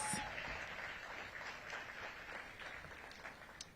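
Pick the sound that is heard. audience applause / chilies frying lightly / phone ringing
audience applause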